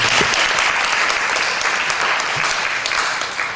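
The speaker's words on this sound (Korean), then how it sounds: "박수 좀 부탁드립니다" Loud, sustained applause from a crowd at a church peace gathering welcoming an arriving guest, dense and even with slight fading toward the end.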